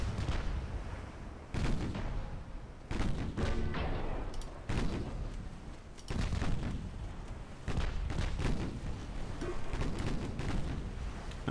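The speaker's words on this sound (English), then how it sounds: "6-inch guns doing the job" Six-inch naval guns fire in a Japanese Dreadnought-era warship campaign, a series of loud booming salvos at irregular intervals, each a sharp blast trailing into rumble, with no talk over them.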